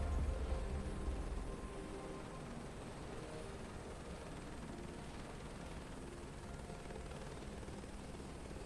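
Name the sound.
helicopter rotor thumps in video game Microsoft Flight Simulator 2024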